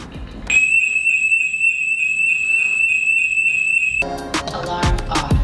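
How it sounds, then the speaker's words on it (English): A SimpliSafe home security alarm goes off in a New York City home, giving a loud, steady, high-pitched electronic tone for about three and a half seconds before cutting off into other household noise. "Alarm off."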